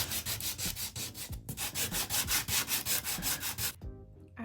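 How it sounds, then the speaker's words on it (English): Rapid, rhythmic back-and-forth rasping of a nail file sanding a patch on a bedroom wall, steady and close for several seconds before stopping abruptly. "I'm gonna just use a nail filer and just sand it out just like so."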